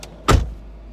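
A Range Rover L322 3.6 TDV8 with air suspension gives a single short mechanical whirr-and-thump as it starts raising to normal drive height, close by, followed by a faint steady hum.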